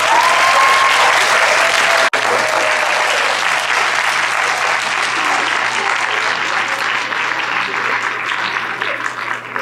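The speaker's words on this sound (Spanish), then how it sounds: "no sin antes tributarle un gran aplauso y darle un reconocimiento" Loud, sustained audience applause at a Mexican academic presentation, steady dense clapping from a large crowd throughout, with a brief dropout early on and no speech over it.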